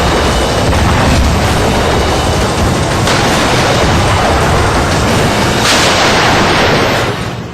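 Gunfire from the Pakistani army in a ceasefire violation along the Line of Control in Kathua's Hiranagar sector, Jammu and Kashmir, booms as a dense, loud, continuous roar of shots and blasts with no voices.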